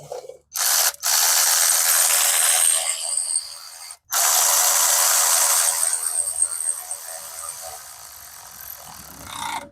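A ratchet snugs down nuts during an engine swap on a Coleman B200RSV, with long, fast, close-up clicking runs broken by brief pauses, then trailing off into slower, fainter clicks.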